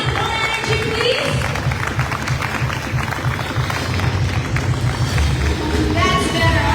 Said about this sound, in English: doesn't that deserve a big round of applause, everyone?